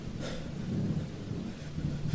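Steady rain falls with a low rumble of thunder rolling underneath, close and continuous in a dark story's sound effects.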